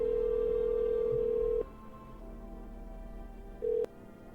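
A steady electronic telephone tone plays in a video game as a call is placed, holding for over a second, then breaking off and returning briefly as a short second beep over faint background hum.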